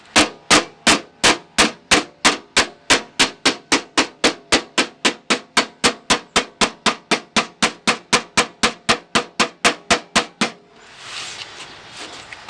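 Hammer blows land on the edge of a 1967 Mustang door skin, about thirty-five sharp, evenly paced metallic strikes close up, followed by a brief burst of rougher noise.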